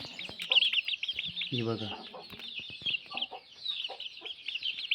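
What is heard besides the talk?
desi chicken chicks clucking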